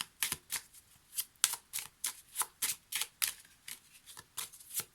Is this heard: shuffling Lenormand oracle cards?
yes